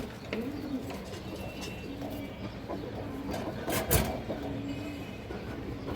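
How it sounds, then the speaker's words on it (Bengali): A large female Bezi pigeon coos in soft, low, repeated notes amid light background noise, with a brief sharp clatter near the middle. "একটা বেজি মাদি কবুতর আছে বড় সাইজের একটা বেজি মাদি কবুতর"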